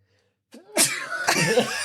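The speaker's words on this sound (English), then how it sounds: "That was the most dramatic sneeze." One loud, dramatic sneeze up close, a sharp intake and then an explosive burst that trails off into a breathy exhale.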